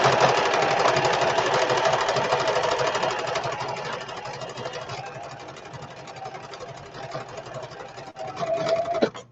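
A sewing machine stitching repeatedly over fabric to patch a custom-sized traveler's notebook, a close continuous whirring hum that gradually fades and then picks up again near the end.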